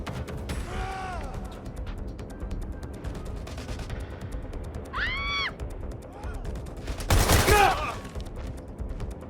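Gunfire in Watch Dogs: Legion comes as crackling bursts of shots over a busy backdrop, with shouting voices and one loud blast near the end.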